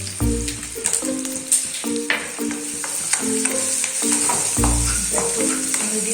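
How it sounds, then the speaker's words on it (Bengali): Onions fry in spices in a pan over a medium flame, sizzling steadily and close while being stirred, with a hum running under the frying. "মিডিয়াম ফ্লেমে ভাজতে হবে"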